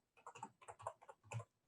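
Quick taps on a computer keyboard, about five or six light keystrokes in an irregular burst, close and otherwise quiet.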